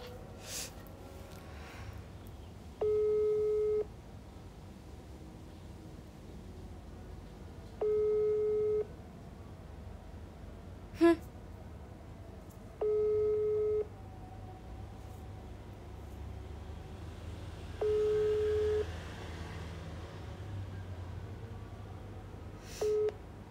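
A ringback tone from an unanswered phone call repeats at regular intervals, steady paired beeps spaced a few seconds apart over faint background noise, with one short click midway and no talk.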